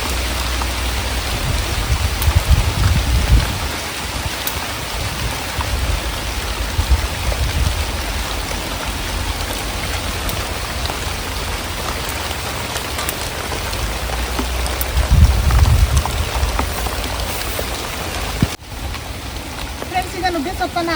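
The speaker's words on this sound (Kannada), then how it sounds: "ಈ ಥರ ಮಳೇಲಿ ನೆಂದು ತುಂಬ ದಿನ ಆಗಿತ್ತು." Heavy rain pours down in a village, a loud, close, steady wash of drops that swells briefly in a few spots and never lets up.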